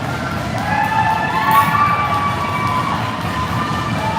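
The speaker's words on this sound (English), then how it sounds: "Nice to hear the fans cheering from both sides." A crowd of fans cheers from both sides at a youth 14U ice hockey finals game at a Silver Sticks tournament in Pelham, Canada, during the final minute. The roar is loud and steady throughout, with a few high whistle-like tones.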